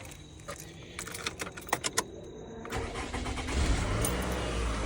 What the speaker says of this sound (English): Alright, now we'll go ahead and start the car.